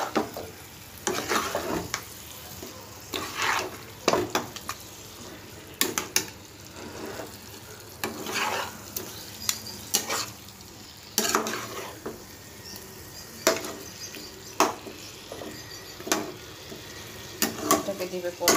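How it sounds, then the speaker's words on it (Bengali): Boiled mutton and potatoes sizzle in a pan for Bengali mutton kosha, with repeated scraping and stirring strokes of a utensil against the pan over a steady frying hiss. "এবার এর ভিতরে মাংস আলুটা দিয়ে দেবো, সেদ্ধ করা মাংস আলু নুন দিয়ে করা"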